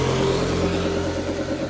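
A Beat FI ESP scooter engine with a stalling and sputtering fault idles steadily nearby, a low, even mechanical hum with a faint rhythmic chug throughout.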